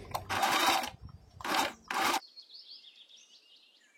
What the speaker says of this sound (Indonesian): Lalu jahit dulu bagian ujungnya,